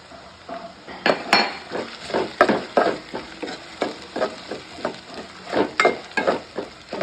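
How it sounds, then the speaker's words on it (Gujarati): Onion and garlic frying in a pan for a besan curry, with repeated close clinks and scrapes of a metal spoon stirring against the pan over a soft continuous sizzle. "લસણ બરાબર શેકાવા દેવું પડે તો સ્વાદ સારો આવે"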